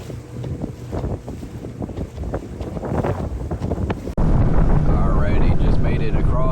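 A boat motors across a choppy lagoon straight into the wind, with steady broadband wind and engine rumble that grows louder and denser partway through, hull slapping on waves; a voice speaks briefly under the noise.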